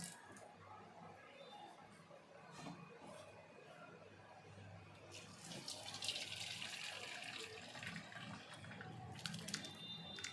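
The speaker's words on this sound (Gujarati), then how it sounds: "આ રીતે બધું જ પાણી વધારાનું નિતારી લેશું।" Excess whey and water draining off freshly curdled homemade paneer, a steady trickle and splash that grows louder and brighter partway through, heard up close with no talking.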